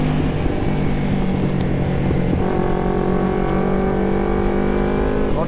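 An old carbureted Kawasaki Ninja 250 fitted with a Termignoni exhaust drones loud and close in heavy traffic, its steady engine note holding throughout, then climbing in a rising rev partway through.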